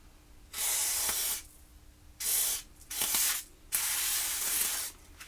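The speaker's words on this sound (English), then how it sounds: "this is white lithium grease, and I know this works" White lithium grease sprayed from an aerosol can during a woodworking vise repair, in four separate close, loud hissing bursts, each lasting about half a second to a second, with short quiet gaps between them.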